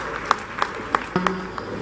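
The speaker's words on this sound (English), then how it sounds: "please give him a round of applause" Scattered claps ring out at an 80th birthday reception for Chief Michael Ade Ojo, a few sharp hits spaced apart over a low room hum with a brief tonal sound in the middle.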